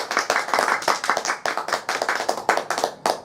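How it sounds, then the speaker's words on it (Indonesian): A seminar audience at a business talk claps together in a quick, even rhythm of distinct, fairly loud hand claps, with no voices over it. "Silakan tepuk tangan."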